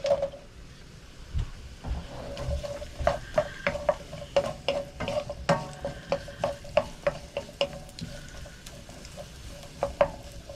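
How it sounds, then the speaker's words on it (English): Stir-fry vegetables, including green beans, sizzle softly in a pan while a utensil scrapes and taps repeatedly against the metal, a steady stirring rhythm close by. "There we go, starting to sizzle."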